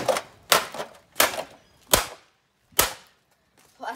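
The plastic of a Pioneer speaker sharply cracks and smashes, five loud broadband impacts spaced irregularly with short decaying rattles, close by and with no talking.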